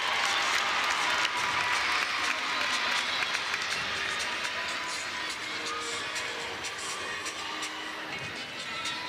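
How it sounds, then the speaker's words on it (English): A crowd at a UCLA at Minnesota gymnastics meet applauds in a loud, dense, continuous wash of clapping that eases slightly toward the end. "the crowd got a little loud"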